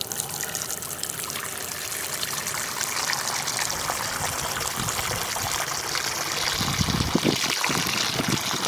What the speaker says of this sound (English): obviously you fill this up with water